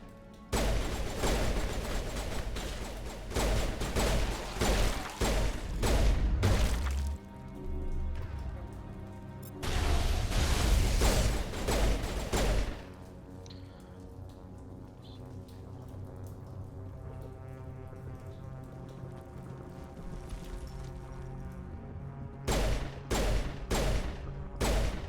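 Bursts of rapid gunfire in the Mass Effect 1 shooter during combat on Feros, dense crackling volleys for several seconds, a pause with lingering tones, then more short bursts at the end; loud and close.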